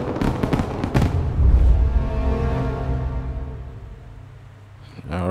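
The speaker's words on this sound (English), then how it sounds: "Look at the fireworks." Fireworks burst in Mafia: Definitive Edition, a run of sharp cracks followed by a deep booming blast that rings out and fades, with another loud burst at the end.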